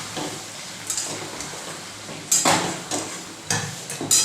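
Chicken frying in oil in a pan and being stirred, a constant sizzle broken by several sharp scrapes and clinks of the spoon against the pan, close and loud, no talk.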